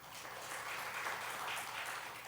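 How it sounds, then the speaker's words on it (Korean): A church congregation at a Sunday worship service applauds in a steady, soft wash of clapping that sounds distant and faint, with no voices above it. "우리 하나님께 영광의 박수 한번 드리죠."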